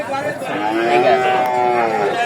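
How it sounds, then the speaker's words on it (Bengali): A young hybrid heifer at a pre-Eid cattle market gives one long, loud, close moo lasting about two seconds, with a wavering tone and soft crowd noise behind it. "সিরিয়ালে চার নম্বর যে গরুটা আছে খুবই সুন্দর একটি গরু"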